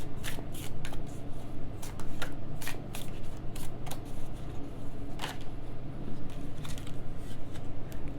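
Tarot cards are shuffled by hand before one is drawn, making repeated close riffles and soft slaps in an uneven but continuous rhythm over a steady low background hum.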